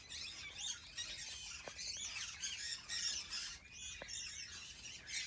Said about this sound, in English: They're also known as red-capped parakeets, but you'll mostly hear me call them pileateds.